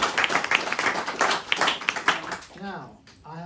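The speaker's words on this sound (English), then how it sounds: "Let's have a round of applause." A small indoor audience applauds after a reading at a talk on Oscar Wilde's house, a brief patter of close clapping that fades as a voice begins speaking at the end.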